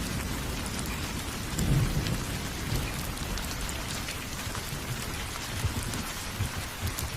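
Heavy rain pours steadily as thunder rumbles low in the background, a continuous stormy wash with no voices.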